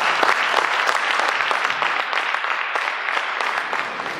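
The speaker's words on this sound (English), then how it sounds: "I would like to give a round of applause to those 10 teams." An audience at a startup pitch day in Sri Lanka applauds the teams with steady, dense clapping that holds at an even level throughout, close and loud, with no voices above it.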